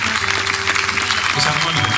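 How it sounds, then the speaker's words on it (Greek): A concert audience at a tribute in Naousa applauds warmly, a dense wash of clapping sustained throughout, with some voices and tonal sound underneath. "Πιστεύω ότι αξίζει το πιο θερμό σας χειροκρότημα."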